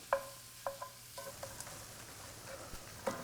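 Sausage sizzles in a hot pan while a utensil stirs and scrapes it, producing soft frying crackle with a few sharp clicks of metal against the pan, fairly quiet and close.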